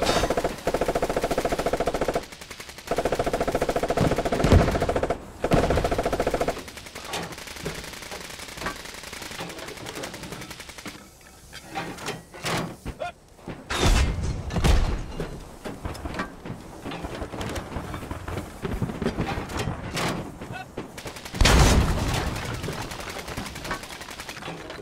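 Gunfire rattles against armor in the game Squad, bursts of rapid shots and impacts coming in uneven clusters with gaps between, loud and close amid rumbling vehicle noise.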